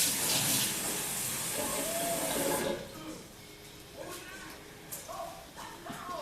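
Water is poured into a blender jar packed with frozen fruit, a bright splashing hiss for a couple of seconds that then stops, followed by quieter clinks and handling sounds.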